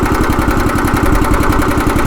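A pull-start petrol engine on an allotment machine runs with the choke on, a loud, steady, rapid throbbing idle close by with no voices.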